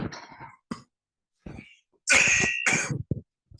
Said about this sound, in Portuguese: eu tô com uma tosse horrível por causa desse clima desgraçado